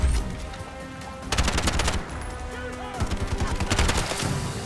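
Rapid automatic gunfire from the Nintendo Switch shooter Bright Memory Infinite, loud and close, coming in two dense bursts over game music and effects.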